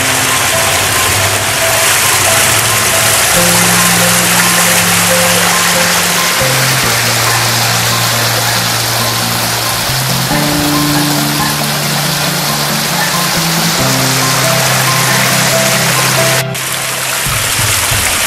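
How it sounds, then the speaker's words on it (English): Water pours steadily over a backyard pond's biofalls waterfall, a loud, constant rushing splash close by that never lets up, with a low hum beneath it from pond equipment. "This part of the pond right here is called the biofalls."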